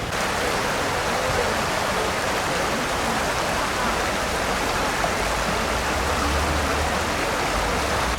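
Steady broadband rush of flowing stream water on a spring day in Seoul, continuous and fairly close with an even, unbroken wash and no voices.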